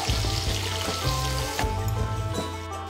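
Onion frying in a pan with a steady, loud sizzling hiss, a low rumbling hum beneath it and a few small crackles, continuous and close.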